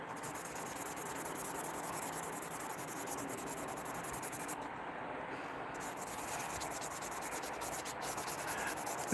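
A sling is wet sanded by hand in a steady, close rubbing rasp that runs continuously without pause, soft and even in level throughout.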